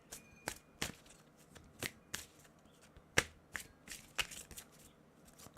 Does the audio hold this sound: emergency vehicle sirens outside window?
no